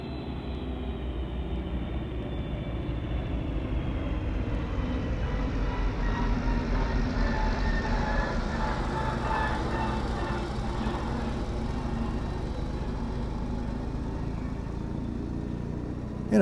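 A small rally car engine with three exhaust pipes runs steadily for the whole stretch, a continuous buzzing drone at moderate distance with no talk over it.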